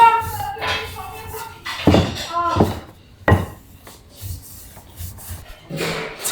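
A knife chops layered buckwheat noodle dough on a wooden board in several irregular, fairly close thuds and knocks, with people talking throughout.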